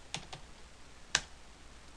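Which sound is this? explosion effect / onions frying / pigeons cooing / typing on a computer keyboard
typing on a computer keyboard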